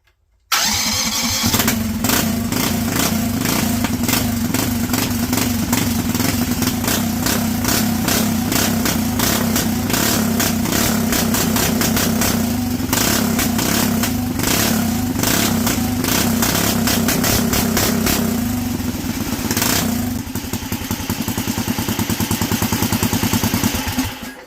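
Go-kart engine fitted with a 24mm bored three-circuit carburetor and racing spark plug starts up and runs steadily, a loud close continuous buzzing drone with a slight dip and pickup near the end.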